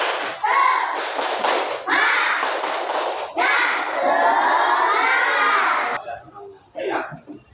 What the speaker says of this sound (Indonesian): Masih ingat tepuk semangat?